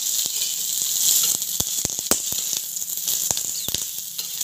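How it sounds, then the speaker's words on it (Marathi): Green chillies roast in a little oil in a pan, a steady close sizzle broken by frequent sharp pops and crackles, with no voices. "थोडंसं तेल टाकून घेते मी मिरच्यावर"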